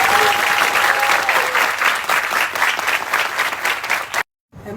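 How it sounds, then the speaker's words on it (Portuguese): Audience applauding on a Brazilian TV variety show, steady dense clapping close and loud for about four seconds, then cutting off abruptly. "Um salve de palmas para esses dois aqui."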